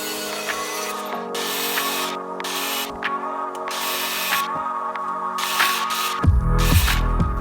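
Loud grinding of a power tool cutting a metal drill bit in bursts, whining and rasping, with a heavier low rumble near the end.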